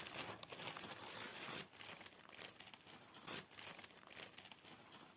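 Plastic packaging crinkles and rustles in quick bursts as a parcel holding a cross-stitch kit is unwrapped, close and fairly quiet, with no talking.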